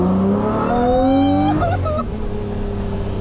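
A Lamborghini Murcielago's engine revs up, pitch climbing steadily before dropping off and settling into a lower idle, close and loud with no talking.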